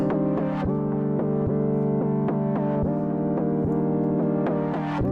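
A rich synthesizer chord made in Serum sustains loudly while rhythmic pulses cut through it at irregular intervals, with no voices.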